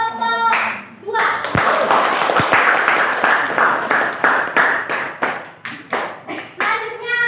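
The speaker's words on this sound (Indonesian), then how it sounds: "Tepuk tangan untuk kelompok 2." Applause in a classroom as a group of students is recognized, bursts of close hand clapping in uneven pulses that swell and fade, with a teacher and children talking at the start and finish.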